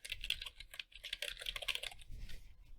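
Steady computer keyboard typing, close and fairly loud, with rapid irregular keystrokes running continuously and easing off near the end, no talking.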